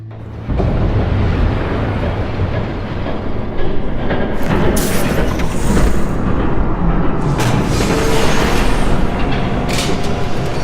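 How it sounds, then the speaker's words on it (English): A train from Batman: The Telltale Series roars past close by, a loud steady rumble with clattering and rising metallic screeches, after a brief quiet start. "There's a train coming."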